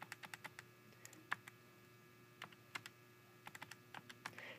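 Quick, uneven bursts of button presses as numbers are punched into a basic calculator, soft and close against a faint steady hum, with no voices.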